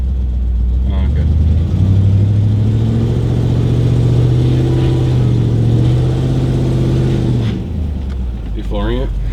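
An E38 V8 car engine revs hard and steadily for several seconds, a loud sustained roar with rising and falling pitch, then drops back toward idle near the end; voices are heard around it.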